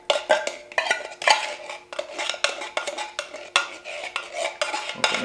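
A metal spoon scraping thick coconut milk out of a can for coquito, repeated close clinking and scraping strokes in an irregular rhythm, fairly loud and alone with no talking.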